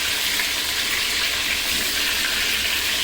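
Pieces of meat fry in a pot for a roast, giving a steady, dense hiss that keeps an even level throughout with no talking.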